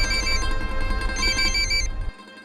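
A telephone rings with a bright repeating electronic ringtone, loud and close, in two bursts before cutting off abruptly near the end.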